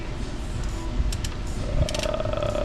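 Reverse ratchet wrench clicking over a loud mechanical rumble, quick metallic clicks close by under a steady grinding background.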